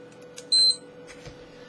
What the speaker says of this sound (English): I'm going to use the Gym Boss timer.